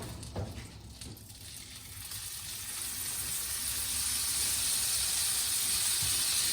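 Steak lowered into a pan of melted butter, giving a steady, close hiss of frying that swells over the first few seconds and then holds loud and even, with a faint knock from the pan early on.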